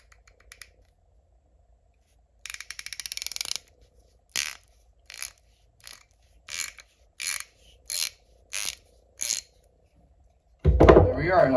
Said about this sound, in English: We got the 1/2 inch ratchet.